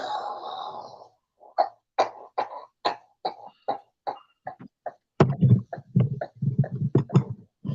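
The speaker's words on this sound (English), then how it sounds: "I've been dealing with a cough myself." A person coughs repeatedly in short, harsh bursts, close and fairly loud, with brief pauses between coughs and a heavier cluster toward the end.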